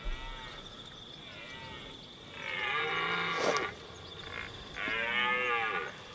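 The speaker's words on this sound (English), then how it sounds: "when they mate, the male elks do that whistle. That sounds like they're playing a piccolo." Shrill, piccolo-like wavering mating whistles from a male elk rise and fall twice over a low steady background, with brief bursts of nearby sound between them.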